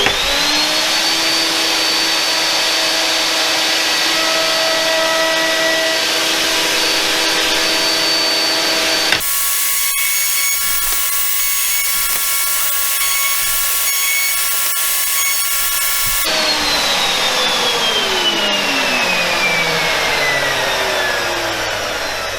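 A power tool on a Triton workcenter runs small chamfers on wooden squares, giving a continuous high whine with a shifting pitch and a brief change in tone partway through, loud and close, with no speech.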